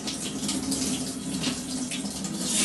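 Tap water runs steadily into a sink as orchid roots are rinsed during a water-culture change, a continuous close hiss with no talking.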